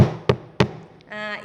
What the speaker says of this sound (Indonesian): kelima bunyi pintu yang diketuk misalnya.